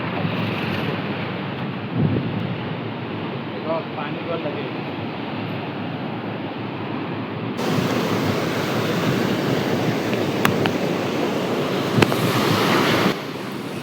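Big ocean waves break on the Arabian Sea shore at Kunkeshwar in Konkan, a continuous loud roar of surf with wind buffeting the microphone throughout and a few sharper crashes near the end.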